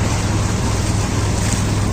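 A boat moves on the Saryu river, its low engine hum steady beneath broad rushing wind and water noise that buffets the microphone loudly and continuously, with no talking.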